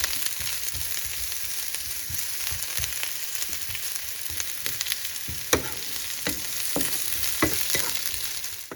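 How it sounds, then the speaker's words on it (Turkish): A zucchini omelette fries in a pan, a steady close sizzle with scattered sharp crackles and pops throughout, no voices. "Şimdi güzelce omletimizi hazırlayalım."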